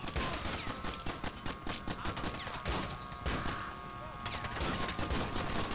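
Shotgun blasts and gunfire in the video game GTA IV, rapid repeated sharp bursts in a dense volley, with brief pauses and game ambience between shots.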